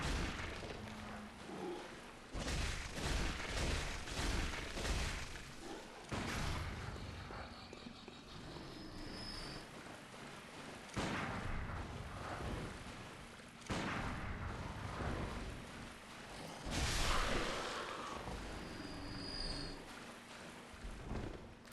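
Pistol shots ring out in Bloodborne amid heavy, booming game ambience, several separate loud blasts spaced seconds apart over a rumbling background.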